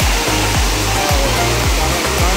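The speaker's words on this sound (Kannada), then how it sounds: "ಸೊ ದೊಣ್ಣೆ ಫಾಲ್ಸ್ ಅಂತ ಈ ಫಾಲ್ಸ್ನ ಹೆಸರು." Donne Falls near Ankola, running with fairly little water, gives a loud, continuous rushing roar, broken by repeated low thumping pulses underneath, with no voices.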